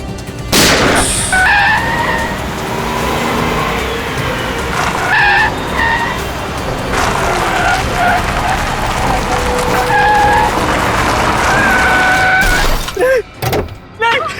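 Car tyres skidding and screeching during a road chase, with loud, sustained squeals rising and falling over an engine roar, several long skids in succession ending in an abrupt stop and rustling.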